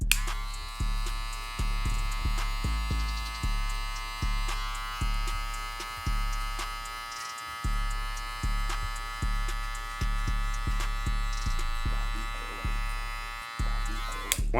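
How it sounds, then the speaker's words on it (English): An electric hair clipper drones in a steady buzz while blending a burst fade, its pitch and level pulsing in a regular rhythm of short strokes close to the microphone, with no talking. "I'm still using the corner of my clipper to blend the lines out."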